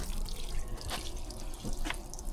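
A cheap diesel transfer pump, used as a bilge pump, draws water out in a continuous faint gurgling, splashing flow with occasional drips.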